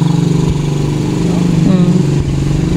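A motorcycle engine idles nearby with a steady, throbbing low rumble, and faint voices can be heard underneath it.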